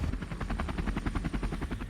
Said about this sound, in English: we heard a throbbing sound from above us.